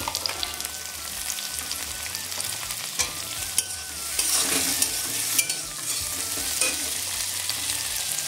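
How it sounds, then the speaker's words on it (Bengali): Chopped onion and tomato fry in oil with whole dried chillies in a home kitchen pan for a jackfruit and prawn dish, giving a constant sizzle with occasional stirring scrapes and spoon clacks. "এবারে একে একে টমেটো কুচি দিয়ে দিচ্ছি।"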